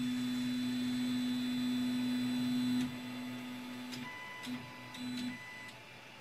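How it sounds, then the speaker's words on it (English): A 3D printer's print head travels up to its home position, a steady motor whine that holds for a few seconds, then steps down into shorter tones and stops, with faint clicks. "this print head should go up to the top and stop. That's the home position."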